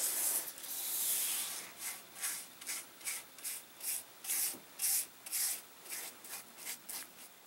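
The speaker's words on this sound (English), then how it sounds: "So I'm just brushing on some linseed oil." A brush spreading linseed oil along a wooden double bit axe handle, a close, soft bristly swish repeated in a steady rhythm of strokes.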